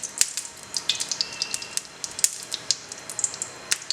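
Chicken shami kabab patties sizzle in oil in a hot pan. Sharp crackles and pops burst repeatedly over a soft, steady frying hiss, close by and with no talking.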